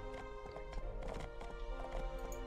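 Horse hooves clip-clop at a steady walking rhythm in the video game My Time at Portia, moderately loud over game music with an occasional whinny-like tone.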